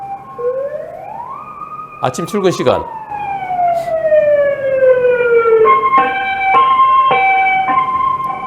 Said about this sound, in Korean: 구급차 소리 들립니다.